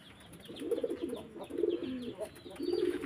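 Soft pigeon cooing in low, repeated rolling phrases at close range, with faint scraping and rustling in the background.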